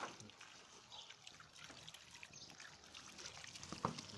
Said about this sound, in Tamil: இப்போ நீங்கள் தண்ணி ஊற்றிங்க.